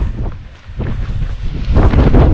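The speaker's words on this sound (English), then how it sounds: "The wind on this hood is so freaking loud." Strong wind buffets a jacket hood on an exposed mountain trail run, producing loud, continuous low roaring microphone rumble that surges and grows stronger toward the end.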